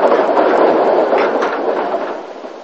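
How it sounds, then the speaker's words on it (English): A narrow gauge steam train on the Isle of Man, a combined Peel and Ramsey service, passes through a closed station with a loud, steady rolling rumble that fades slightly toward the end. "Another combined Peel and Ramsey train heads through the closed station."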